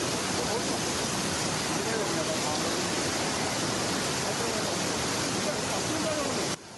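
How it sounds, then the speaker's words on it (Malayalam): A flash flood in Chittarikkal, Kasaragod, during heavy monsoon rain, a loud, dense, unbroken roar of rushing water that fills the whole moment before cutting off abruptly near the end. "ചിറ്റാരിക്കാലിൽ നാടിനെ വിറപ്പിച്ച് മലവെള്ളപ്പാച്ചിലുണ്ടായി"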